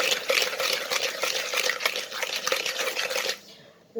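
Melted butter and sugar stirred in a pot, a steady close scraping and swishing with repeated light clinks, running continuously before stopping abruptly near the end.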